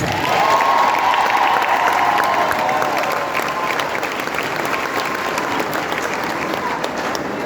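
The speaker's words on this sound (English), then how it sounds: "We give our new doctors another round of applause." A graduation ceremony audience applauds, dense steady clapping filling the hall, loud at first and easing slightly while continuing throughout.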